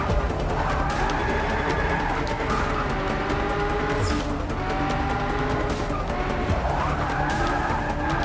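A Shelby GT350R in Forza Motorsport 6 drifts around the Nürburgring, its tires squealing and skidding without a break over a loud, roaring engine.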